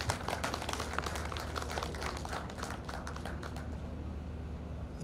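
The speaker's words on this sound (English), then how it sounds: "please give him another round of applause" A live-streamed audience gives another round of applause, a soft, distant patter of many hands that runs for a few seconds and then fades toward the end.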